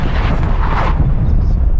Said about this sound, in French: Frappe d'artillerie en approche.